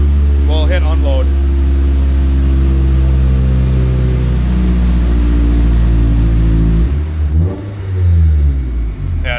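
A Honda CRX runs on a chassis dyno in a workshop. Its engine holds a loud, steady droning hum at constant revs, then drops off abruptly near the end, with voices talking over it.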